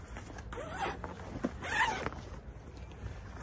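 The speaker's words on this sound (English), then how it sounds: "So I'm going to unzip this right now." Unzipping a zipper on a MOVEPEAK waterproof dog seat cover, heard as a couple of brief, close rasping pulls with soft handling noise between them and no talk.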